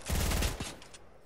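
A shotgun fires in an online shooter game, a short rapid burst of close, sharp blasts that decays into a quick echo tail.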